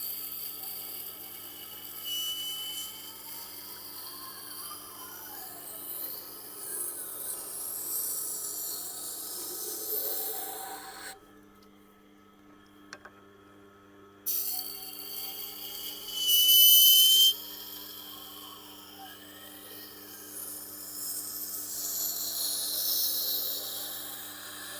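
A boning knife is drawn across the wheel of a Tormek sharpener in a few quiet passes per side, making faint whistling, rubbing tones with a silent pause partway through.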